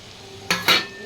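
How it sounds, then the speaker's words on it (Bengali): Fish pieces drop into a spiced paste in a hot pan and are stirred, giving two quick close scrapes with a short burst of sizzle over a low background hiss. "এবার মাছগুলোকে ঢেলে দিলাম।"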